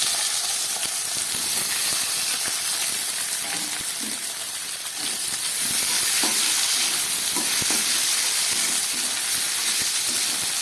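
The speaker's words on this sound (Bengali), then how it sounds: "আলু পেঁয়াজটাকে খুব ভালো করে ভাজা করে নেব।" Cut potatoes and onions fry in hot oil with five-spice seasoning, giving a steady, close sizzle and hiss broken by occasional stirring scrapes.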